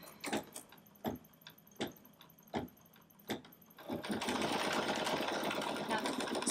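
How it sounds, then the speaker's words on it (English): A Bernina B770 embroidery machine stitches placement guidelines on quilt fabric, first with a string of evenly spaced sharp clicks, then settling into a steady loud whirring hum. "now it is stitching out just some guidelines for me to look at as I place my pieces"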